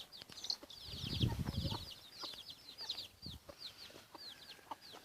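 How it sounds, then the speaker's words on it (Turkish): Chickens cluck in a busy burst near the start, then keep up scattered clucks, with birds chirping brightly and steadily overhead throughout. "Çok güzel bir cins tavuk."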